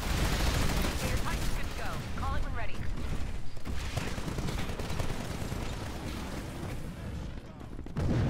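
Rapid LMG bursts ring out in a Titanfall match, layered with booms and other game noise, while players talk over the shooting.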